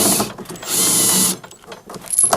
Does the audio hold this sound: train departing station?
no